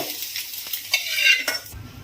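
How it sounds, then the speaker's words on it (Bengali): Boiled egg pieces frying in mustard oil in a wok are stirred with a utensil, giving a close, crackling sizzle broken by a couple of sharp scraping knocks against the pan before it quiets. "এবারে এটাকে নাড়িয়ে নিচ্ছি।"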